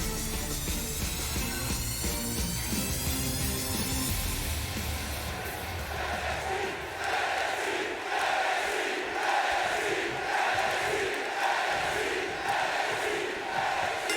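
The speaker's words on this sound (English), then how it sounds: "And again, this crowd white hot." Crowd noise in the WWE 2K20 wrestling video game during an NXT tag team tournament match, a continuous loud wash of cheering with rhythmic swells, no talk over it.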